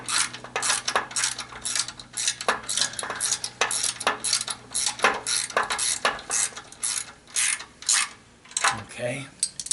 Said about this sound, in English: Then you finish tightening them down.